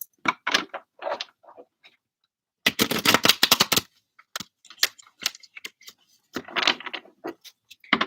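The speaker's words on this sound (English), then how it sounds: "Let's get a good shuffle in." Tarot cards are shuffled by hand in bursts of crisp riffling and flapping, with a long, dense riffle in the middle and shorter snaps and taps around it, close and clear.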